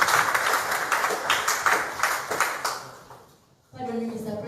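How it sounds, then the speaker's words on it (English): Audience clapping at a political NUP elders retreat, a dense steady round of applause that fades out and gives way to a speaker's voice near the end. "We may applaud him once again."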